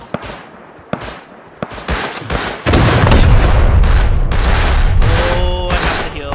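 Rapid bursts of gunfire ring out during an online raid and base defence in the survival game Rust, starting as sparse single shots before swelling into loud, dense volleys.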